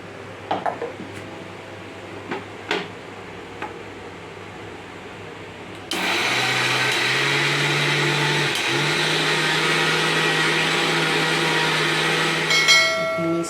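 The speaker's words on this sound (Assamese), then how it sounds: "এতিয়া তিয়াই থোৱা চাউলখিনি মিক্সিত গুড়া খুন্দি ল'ম" An electric kitchen mixer grinder pulverises soaked rice into powder for Assamese ladoo: after a few light clinks, a loud, steady motor whir starts abruptly and runs on continuously.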